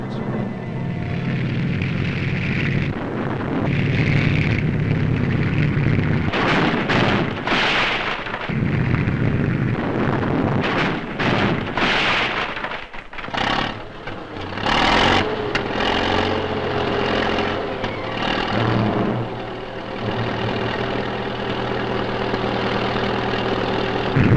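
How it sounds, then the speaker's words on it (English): A 1940s army tank ramming a roadblock of heavy logs, its heavy engine roaring and labouring with loud bursts of crashing and thudding, all recorded at close range. "Now a tank driver pits the power of his vehicle against the efficiency of the engineers"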